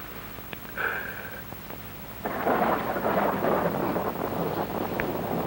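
Rain pours steadily during a thunderstorm, a dense hiss that swells louder partway through, with a rumble of thunder underneath and a few sharp drips or taps, fairly close and without voices.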